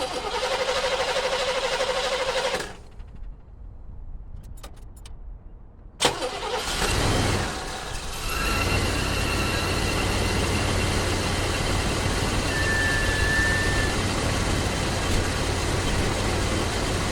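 An Oldsmobile Cutlass with a 307 V8 cranks briefly and catches, then settles into a steady, loud idle that runs on alone close by, with a slight uneven shake.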